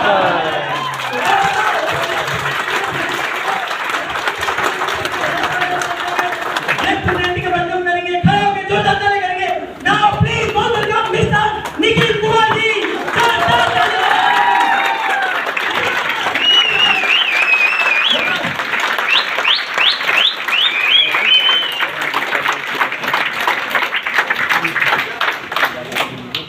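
A large indoor audience breaks into loud, sustained applause, dense clapping that holds for a long stretch with scattered cheers and voices mixed in.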